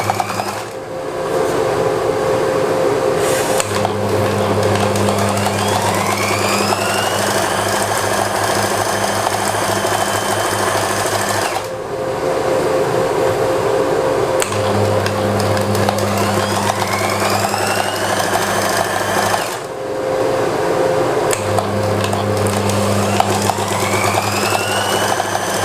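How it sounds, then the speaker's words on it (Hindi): A sewing machine stitches a garment sleeve closed with a loud, steady mechanical whir. It runs in long bursts separated by brief pauses, with no talking. "अब बाजू को आपने बंद करके सिलाई लगा लेनी है"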